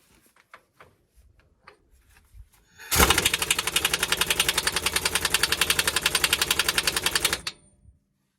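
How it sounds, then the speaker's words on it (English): A pneumatic impact wrench hammers on a bolt of an old wreck, a loud, close, rapid rattling burst lasting about four seconds before cutting off, after a few quiet shuffling knocks. "let's throw an impact on it and see what happens"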